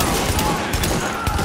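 A loud, dense burst of automatic gunfire crackles through a firefight in the video game The Division, rapid overlapping shots filling the whole moment without pause.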